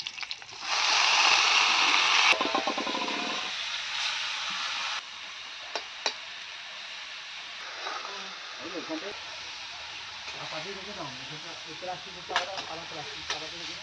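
Spinach and khesari greens frying in a wok in a Bengali village kitchen, a loud burst of hiss and sizzle as they hit the hot oil, then settling to a quieter steady crackle with occasional pops.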